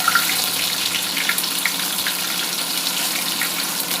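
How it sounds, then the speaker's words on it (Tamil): Curry leaves sizzling in hot oil while tomato soup is being prepared, a steady, dense crackling hiss that runs continuously and fairly loud, with no voices. "கருவேப்பிலையும் நல்லா பொரிஞ்சு வந்துட்டுங்க"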